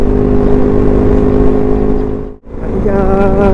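A motorcycle engine revs and drones steadily on a long road ride, loud and close, with a brief dip in the sound partway through before the engine note climbs again.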